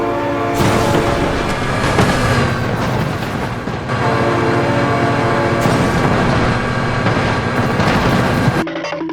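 A train passes in the driving simulator BeamNG.Drive as a loud, continuous rumble with heavy low booms and metallic roar. It sustains for about eight seconds and then cuts off abruptly.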